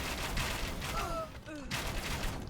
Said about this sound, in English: And the Viper going into bombard cannons with clumped up skirmishers